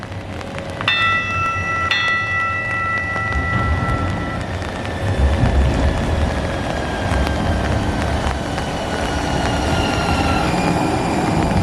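A bus rapid transit vehicle rolling along with a steady low rumble, brief high tonal squeals and chimes early on, and continuous wheel noise throughout.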